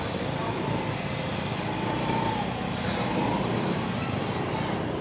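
Street traffic packed with motorcycles, including scooters, makes a steady low rumble of idling and passing engines, moderately distant and blended into a continuous hum.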